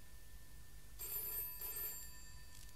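A telephone bell gives one double ring, two quick trilling bursts close together, clear over a quiet background with no speech.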